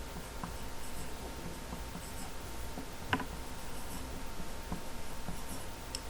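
Pencil writing numbers on paper, a soft steady scratching patter close up, with one brief sharper tap partway through and no talk.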